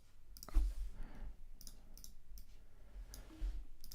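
A computer mouse clicks a few times at irregular intervals, soft close taps over a quiet room background with no talking.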